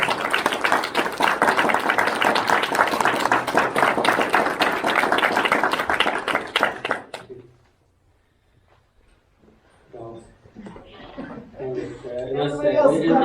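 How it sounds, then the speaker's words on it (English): Audience applause at a Scout troop Eagle Court of Honor, sustained clapping for about seven seconds that stops abruptly, followed by quiet and faint voices. "give organization a round of applause for those"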